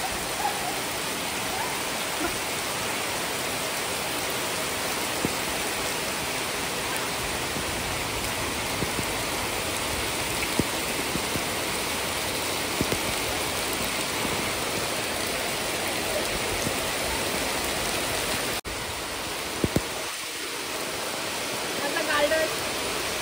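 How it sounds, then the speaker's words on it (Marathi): Heavy monsoon rain pours down in a dense, unbroken hiss, steady and loud throughout with only a brief dip near the end. "गेला 1 तास पाऊस पडता आमच्याकडे"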